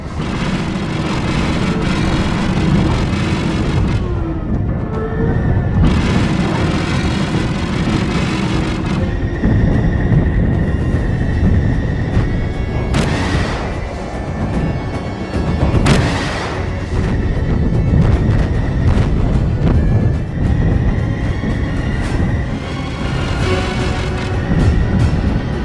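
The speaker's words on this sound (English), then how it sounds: "autocannons fire explosive shells" Autocannons firing explosive shells around the Battlestar Galactica in a space battle, dense rumbling booms and blasts layered continuously and loudly, with bursts swelling and fading throughout.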